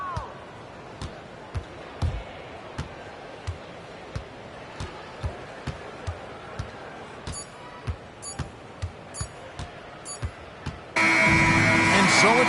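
At a basketball game Boston is winning easily, with balls thudding on the court and sharp squeaks repeating every half second or so, until a loud, harsh final buzzer cuts in and blares steadily to the end.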